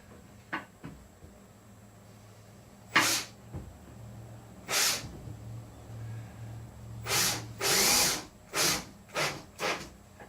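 Several short bursts of a power drill whirring as it pre-drills holes in a wooden countertop during a shuttle bus RV conversion, spaced irregularly with a low motor hum between them, close by and with no talking.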